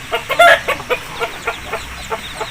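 Aseel chickens clucking close by, a quick run of short, sharp clucks in an uneven rhythm that comes out loud at first and then grows softer.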